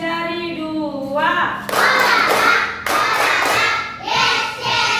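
Rhythmic finger clapping from a class of children doing an ice-breaking game, bursts of claps with children's voices chanting in between.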